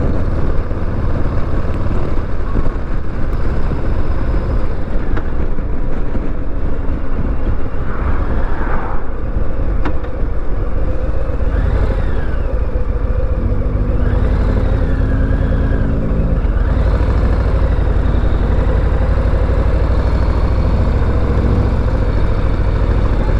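2023 Harley-Davidson Low Rider ST motorcycle on a test ride, a continuous engine rumble under heavy wind rush, with a few rising throttle swells midway and no talk.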